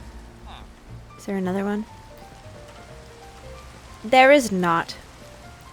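Steady soft rain patters in a fantasy video game world throughout, a faint even wash beneath a speaking voice and short bursts of game sound effects.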